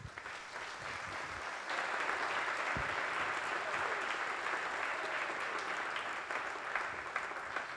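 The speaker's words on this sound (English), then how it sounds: "How about a final round of applause for all of them?" Audience at a township business awards event gives a final round of applause, a broad even wash of clapping from a crowd, moderately distant and sustained, swelling slightly after the start.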